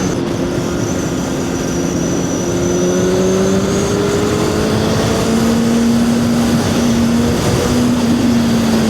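A CFMOTO 750SR-S motorcycle accelerating hard with a quick shifter, a loud continuous engine drone whose pitch climbs, drops at a shift and climbs again, over heavy wind rush.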